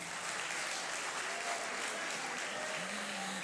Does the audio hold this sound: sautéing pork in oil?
no